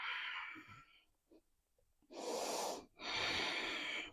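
Slow, deep breaths during a yoga balance pose: a long exhale, a quiet pause with small sounds, then a full inhale and another strong exhale, close and clearly audible with no speech.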